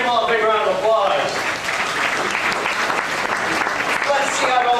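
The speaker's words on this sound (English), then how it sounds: "let's give them all a big round of applause." Audience applause on a backlot tour, loud and continuous clapping from a crowd that fills the whole stretch, with a voice briefly over it at the start.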